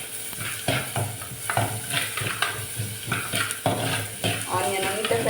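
Onion fries to golden brown in a pan for a dried fish curry, giving a steady sizzle broken by repeated scraping stirs of a spoon against the pan, close by, with a voice talking over it.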